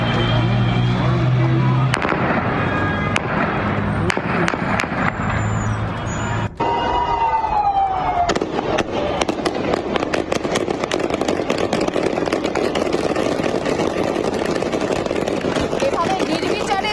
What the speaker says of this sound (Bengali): শুনুন সেই গুলির আওয়াজ।